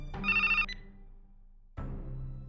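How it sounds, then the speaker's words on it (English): A mobile phone rings with a bright electronic trill repeated in quick pulses, then a pause before another ring begins, fairly faint in an otherwise quiet room. "Oh, my phone is ringing."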